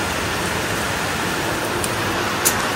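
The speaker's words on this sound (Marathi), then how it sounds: "पावसाने वाट लावले." Steady rain falling, a dense even hiss with no breaks, close and moderately loud, with no voices.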